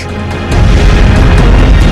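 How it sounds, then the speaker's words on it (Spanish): Krakatoa volcano in Indonesia erupts in a massive explosion, a deep, loud, sustained roaring boom that swells suddenly and rumbles on without pause. "El Krakatoa directamente explotó. Esta tremenda explosión enterró 2/3 de la pequeña isla Indonesia"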